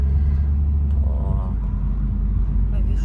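A car drives along a road in America, a steady low engine rumble and tyre hum that stays close and unbroken throughout.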